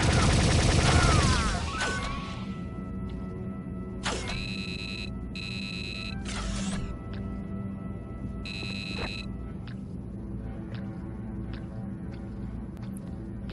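Rapid bursts of gunfire and mechanical weapon clatter in a sci-fi video game, a loud dense volley at the start easing into scattered shots, clanks and electronic tones against a steady background hum.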